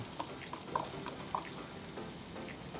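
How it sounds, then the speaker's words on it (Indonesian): Garlic sizzling and frying in hot olive oil in a pan, a constant crackling hiss with a few sharper pops, close and fairly quiet, no voices. "Langsung dimasukin bawang putih nih teman-teman."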